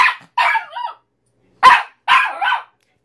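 A Papillon dog barks in short, sharp bursts, two quick barks, a gap, then two or three more, close and loud with silence in between.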